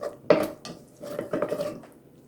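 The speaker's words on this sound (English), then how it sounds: "Make sure you scrape kind of the bottom and get the little bits from the bottom of the pan." Metal utensil scraping the bottom of a pan of sausage gravy, a few short scratchy strokes and clinks in quick succession, close and fairly quiet.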